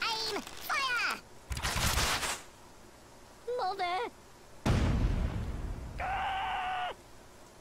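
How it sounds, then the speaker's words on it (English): Bursts of musket-style gunfire volleys in the Worms Ultimate Mayhem video game: loud, noisy blasts cut between stretches of cartoonish character voices, with one near the start and a heavier volley midway. "Let's give them another volley, lads! Ready, aim, fire!"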